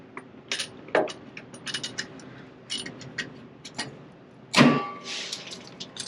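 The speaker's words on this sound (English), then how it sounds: "ratchet is cheap and bad quality" A cheap, poor-quality ratchet wrench clicks in several quick bursts of sharp ticks, close and alone, while tightening a truck or trailer mudflap fastener, with a louder clatter near the end.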